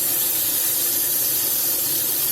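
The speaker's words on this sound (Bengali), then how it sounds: "বেগুনটাকে ভাজার জন্য এখন আমি ঢাকা দিয়ে দিচ্ছি।" Eggplant frying in oil in a covered pan makes a loud, constant hiss with fine spattering, close and unbroken, with no voices.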